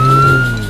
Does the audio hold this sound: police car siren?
yes